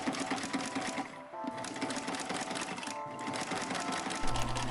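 Sewing machine stitching steadily through six layers of sailcloth and muslin for a camera gear bag, a fast continuous mechanical chatter, close and moderately loud, with a brief slowdown partway.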